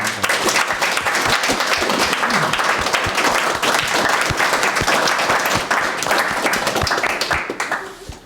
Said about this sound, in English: Maybe we can just give a last final round of applause to you